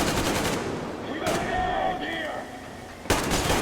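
Bursts of rapid automatic gunfire in the video game Metro Exodus crackle in short volleys at the start and end, with a tonal electronic ring between, loud and close.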